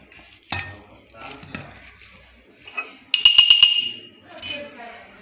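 Spice mixture is stirred in a bowl with a utensil, giving a sharp clink followed by a quick run of rapid metallic scrapes and taps against the bowl. A few soft knocks come between, close and moderately loud.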